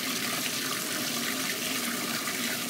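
Water runs steadily into a bath where a bubble bar dissolves, a continuous close rushing and splashing hiss with no pauses and no talk.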